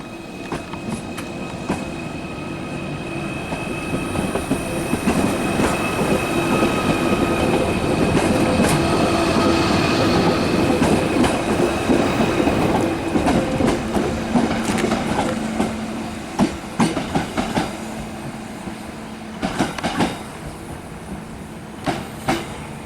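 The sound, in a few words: Merseyrail train running to Liverpool Central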